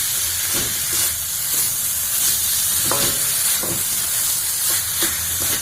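Carrot halwa mixture with sugar being stirred in a hot pan, a steady sizzling hiss with soft periodic scraping strokes of the spoon, close and continuous, no talking.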